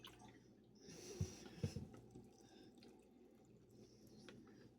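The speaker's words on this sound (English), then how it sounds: "And I'm going to add a little more water." Water poured into a chicken dressing mixture in a home kitchen gives faint, brief splashes and drips, with a couple of soft wet bursts early on over a quiet background.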